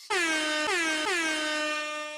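A loud, blaring air horn sounds three times in quick succession, each blast overlapping the last, with no voices.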